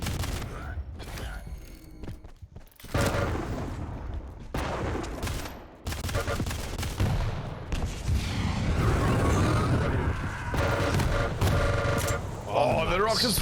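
Rocket launcher blasts and lightning gun fire crackle in a fast Quake duel, a dense run of booming hits and rapid shots, loud and continuous, while a commentator talks over the action.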